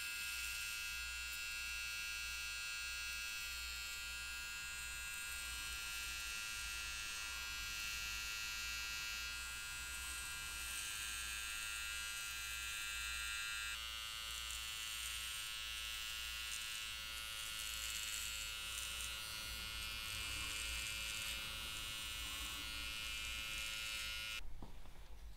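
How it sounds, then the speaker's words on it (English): An electric hair clipper buzzes steadily and close by while trimming hair at the neckline during a self-haircut, a continuous droning whine whose pitch shifts slightly as the blade moves. "flip your clipper over and push it in so that you can see the blade pushing towards the"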